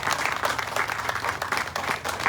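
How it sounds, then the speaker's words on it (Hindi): A crowd at a franchise opening event in Haldwani, Uttarakhand gives loud, enthusiastic applause for the MD, with dense clapping pulsing in quick rhythmic waves, close and continuous throughout. "तो इसके लिए एक बार जोरदार तालियां होनी चाहिए हमारे एमडी डॉक्टर संजीव कुमार जी के लिए"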